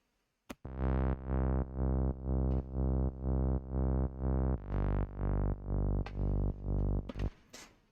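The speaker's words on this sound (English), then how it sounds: "this bass line sounds like this" A loud, gritty distorted bass plays a steady run of evenly spaced notes, stepping down in pitch partway through, with a few sharp clicks at the end.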